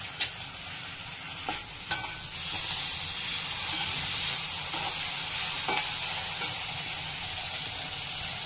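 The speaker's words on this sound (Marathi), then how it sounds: "आता कांदा चांगला भाजून घ्यायचा." Onion frying in a pan for phodnichi poli, a steady close sizzle that grows fuller partway through, with a few sharp clicks of the spoon stirring and no talk.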